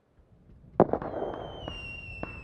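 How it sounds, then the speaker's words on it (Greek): Fireworks in the battle royale shooter PUBG during an event: a sharp loud crack followed by popping bursts and whistling trails rising and fading over a couple of seconds. "Τι είναι αυτά τα πυροτεχνήματα, έχω πετύχει σε γιορτή."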